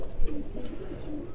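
Caged breeder pigeons in a Quetta loft give low, continuous cooing, a steady murmuring from several birds close by.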